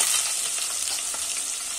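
Onion added to a pan of hot oil with toasted cumin and green chili, giving a steady, close hiss of frying with faint stirring scrapes, no voices.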